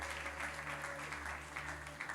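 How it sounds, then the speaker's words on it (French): Church congregation applauding the reverend, dense steady clapping from many hands spread through a large room over a low hum, with a voice faintly audible beneath. "Acclamons pour la présence du révérend."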